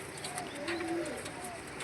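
Pigeons in a fancy pigeon loft give a soft, low coo, with faint background noise around the brief call.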